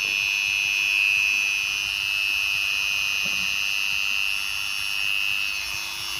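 A modern mini grinder drill runs at speed on its first setting, giving a steady, smooth, high-pitched whine that holds evenly throughout with no talking.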